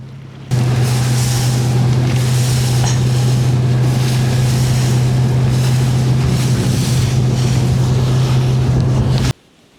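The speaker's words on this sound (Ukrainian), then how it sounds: "Там такий вітер дує, капець, холод сів." Strong wind gusts over open water beside an island during a fishing trip, a loud, steady roar with a low drone underneath that runs unbroken for about nine seconds before cutting off.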